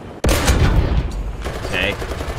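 Gunfire in the tank game War Thunder: a loud, sudden burst of shooting aimed at a tank, with sustained close rumbling blasts that continue steadily for the rest of the moment.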